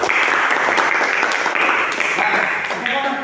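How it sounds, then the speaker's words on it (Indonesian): Classroom applause from schoolchildren for discussion group number three, a brisk burst of many small hands clapping close by, loud and continuous, with voices faintly under it. "Tepuk tangan untuk nomor 3."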